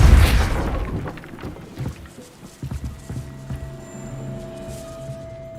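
Depulso, the force-pushing spell in Hogwarts Legacy, is cast with a loud whooshing impact burst at the start. It fades into quieter rumbling, scattered knocks and a low steady hum.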